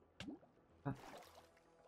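Water in the Minecraft video game gives two short, soft splashy drips about half a second apart, faint and alone against a quiet background.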